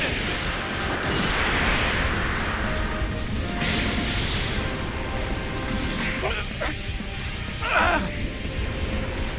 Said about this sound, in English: I'm putting all of our hope into this one blast! Gallic Gun!